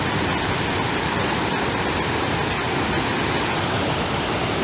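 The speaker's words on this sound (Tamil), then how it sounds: "அவ்வளோ தண்ணி வந்து விழறது மேலே." Athirapally waterfall pours down in a steady, loud, unbroken roar of falling water, a dense wash that fills the whole clip with no voices.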